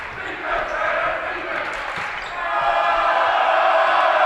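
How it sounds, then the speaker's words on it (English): Home crowd at a high school basketball game roaring and yelling to rattle the visiting team, a loud, sustained din that swells louder near the end, with ball bounces and shouts mixed in. "South's crowd making a lot of noise, trying to get in the heads of Northwest"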